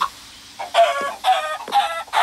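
A chicken in a video game clucks in three short, close bursts separated by brief pauses, with no one talking over it.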